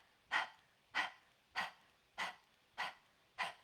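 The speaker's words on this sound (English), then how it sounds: "You're going to pant like a dog. So you just stick your tongue out." A person pants like a dog with tongue out as a breathing exercise, six sharp, evenly spaced breathy huffs, close and fairly quiet.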